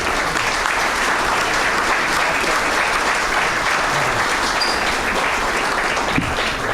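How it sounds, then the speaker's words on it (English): Warm, sustained applause at an awards banquet as a speaker is welcomed, a full room clapping in a steady, even wash without pause. "So help us give a warm applause for Terry"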